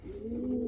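A pigeon or dove beside its nest gives one soft, low coo, a short steady hum that rises slightly and holds, with no other sound nearby.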